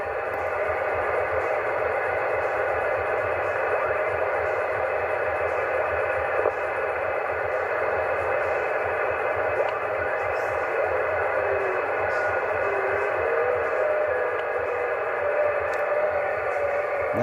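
Steady VHF amateur radio receiver hiss from an ARRL January VHF contest, with digital FT8 mode signals buried in a constant, even noise band and no breaks throughout.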